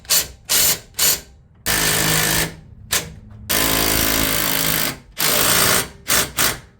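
A power tool tightens a lift kit bolt on a second-generation Toyota Tacoma during a Rough Country 3-inch coilover install, running in loud rattling bursts, two longer hammering runs between several short pulses, close up with no talk.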